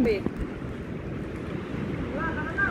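Big waves on the Pasig River slap and wash around a small boat, a steady rough churn with wind noise buffeting the microphone, brief chirpy tones near the end.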